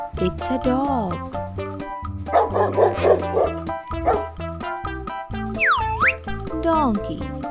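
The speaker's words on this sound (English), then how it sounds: "It's a dog." A dog barks in short bursts over a bouncy children's tune with cartoonish boing effects, the barks close and moderately loud within the music.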